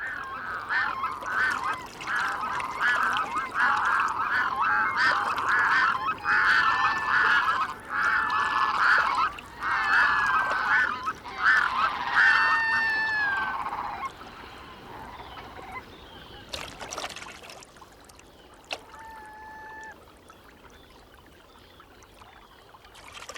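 Red-throated divers on small Arctic nesting pools give a territorial display, with loud, wailing, repeated calls in a steady rhythm over running water, then fading to a few sparse cries.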